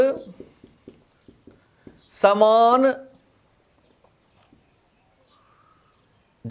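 Chalk or marker taps and scratches on a classroom board during a physics lesson form a short sequence of crisp strokes at the start. A teacher's voice is briefly heard.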